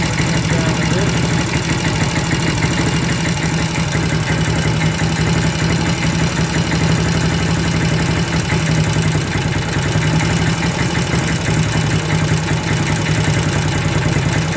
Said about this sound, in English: The idle speed is picking up a bit now. It's warming up.